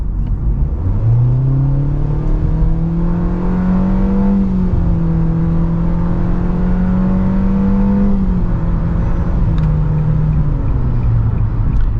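A 2022 Nissan Kicks accelerates on a highway, its engine drone rising steadily in pitch as a loud, continuous cabin rumble, then easing and dipping slightly near the end.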